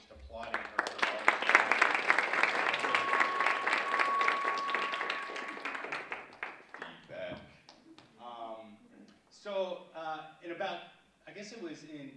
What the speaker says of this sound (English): So if you wouldn't mind just applauding her.